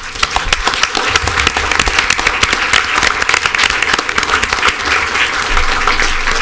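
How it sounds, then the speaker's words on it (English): An audience at a city commission meeting applauds steadily throughout, a dense, loud wash of many hands clapping with no pauses. "let's give a round of applause to Fernando Arosa"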